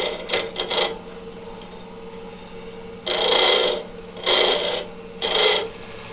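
Tagua nut being hollowed out on a wood lathe: three distinct bursts of close scraping and rasping cut in over a steady low hum, with a quicker cluster of short scrapes at the start.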